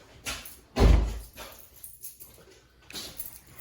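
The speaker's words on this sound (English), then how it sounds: "I'm just going to have to open the trunk" The trunk of a Dodge Intrepid is opened, a loud thud of the latch and lid followed by softer clunks and rattles, close by with no talking.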